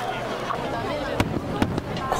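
Fireworks burst at the Kisarazu port festival display, a few sharp distant bangs and crackles over a dense, murmuring crowd with people talking nearby.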